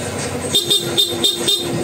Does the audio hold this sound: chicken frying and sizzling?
no